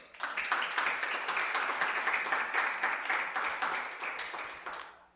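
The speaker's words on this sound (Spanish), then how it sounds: "Den un aplauso al Señor" A church congregation claps for the Lord, a few seconds of lively, slightly rhythmic hand clapping from a mid-sized group that fades out at the end.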